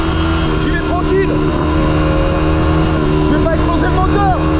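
A motocross motorcycle engine runs loud and steady with rising and falling revs throughout, sustained engine tone close by and continuous, with chirpy whistle-like sounds and faint voices mixed in.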